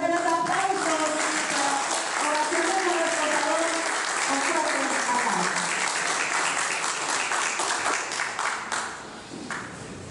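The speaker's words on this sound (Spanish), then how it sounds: "fuerte los aplausos" Sustained, close applause from an audience fills the space, with voices and cheers mixed in, and the clapping tapers off toward the end.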